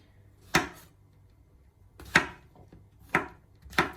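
Kitchen knife slicing button mushrooms, four crisp separate cuts against a board at uneven intervals, close and fairly quiet with near silence between strokes.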